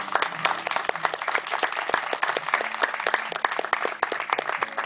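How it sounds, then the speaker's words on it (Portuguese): A church congregation applauds, steady loud clapping from many hands with sharp individual claps standing out in a fairly close, sustained round. "Vamos aplaudir ao Senhor por isso."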